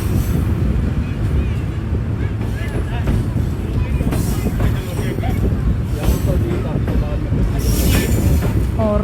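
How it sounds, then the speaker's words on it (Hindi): Bulleh Shah Passenger train rolling into Raiwind Junction, a loud steady rumble of wheels and carriages with occasional squeals and rattles throughout, a voice talking over the noise. "हमारी ट्रेन अप्रोच बना रही है जी रायवंड जंक्शन रेलवे स्टेशन के ऊपर"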